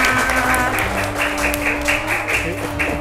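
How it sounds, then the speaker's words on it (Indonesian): Children clapping for quiz winners at a Quran learning group, a steady patter of applause with adult voices talking over it. "Juara 1 kelompok B, tepuk tangan."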